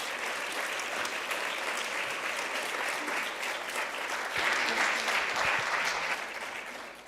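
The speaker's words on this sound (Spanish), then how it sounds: "Le pido que la recibamos con un cálido aplauso a este escenario." A crowd at a launch event for Afro-descendant heritage month gives warm, sustained applause as a singer is welcomed onto the stage. The steady clapping swells slightly partway through before tapering at the end.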